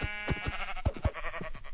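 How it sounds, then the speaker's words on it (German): Sheep bleating in the video game Minecraft, a few short wavering bleats close together, heard alone without talk. "Ich glaube, das ist ein Schaf, was dabei ist."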